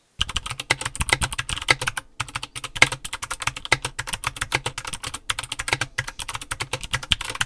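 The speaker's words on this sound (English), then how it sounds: "the vibrations from the keyboard will travel into the desk and resonate to create a particularly harsh sound" Fast, continuous mechanical keyboard typing on a thin desk with sharp, clacky keystrokes that ring slightly hollow as the desk resonates, close up and alone, broken by a few brief pauses.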